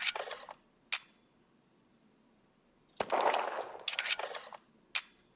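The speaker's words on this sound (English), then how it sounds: "We'll pick up the pistol, swap to it, fire," Pistol firing and reloading in a video game animation: a couple of isolated sharp metallic snaps, then a burst of clattering, clinking reload mechanics and a final crisp click, all close and clean against near silence.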